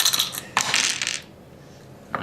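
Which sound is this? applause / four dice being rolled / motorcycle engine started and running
four dice being rolled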